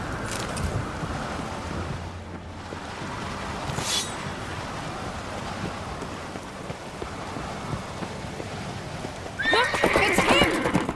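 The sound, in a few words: horse neighing and hooves, video game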